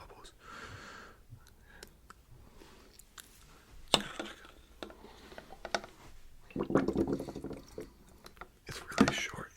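Bubbles blown into water to mimic a cartoon bubble transition effect, soft intermittent gurgles and pops up close, with a louder burbling burst near the end and quiet pauses between.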